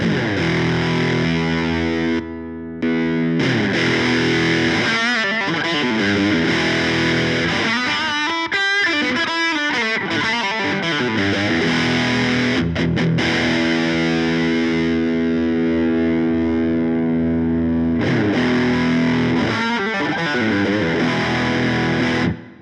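An electric guitar runs through Wampler TCD (Compulsion Drive) and Fulltone OCD overdrive pedals, playing loud, sustained distorted chords and a run of picked notes, with no talking.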